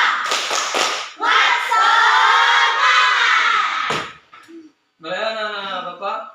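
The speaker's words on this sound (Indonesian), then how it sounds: "Tepuk semangat." Students in an Islamic education class perform a rhythmic spirit clap: a few sharp, quick claps open it, then the group joins in loud, chanted unison voices with more claps between the phrases.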